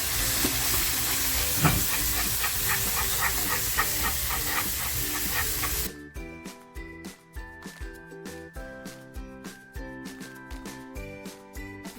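Rawas fish masala frying in a pan, a steady dense sizzle and hiss that suddenly gives way to quieter, irregular crackling pops.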